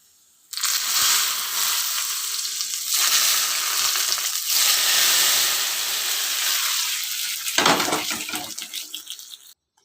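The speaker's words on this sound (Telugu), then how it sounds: "పోపు అయితే వేగింది ఫ్రెండ్స్ తాలింపులో వేసేసుకున్నాం ఇప్పుడు" A tempering of dried red chilies and curry leaves hits hot oil in a loud, close, continuous sizzle for several seconds. It surges in waves, crackles harder near the end, then cuts off abruptly, with no voices.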